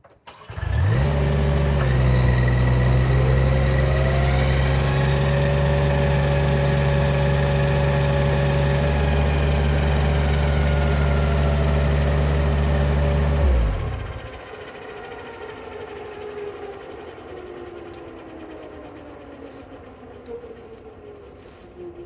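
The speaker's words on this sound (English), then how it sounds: "Mulcher doing its thing." A cheap Chinese forestry mulcher runs with a loud, steady, droning engine roar for about thirteen seconds, then drops abruptly to a quieter, lower running sound that fades slightly toward the end.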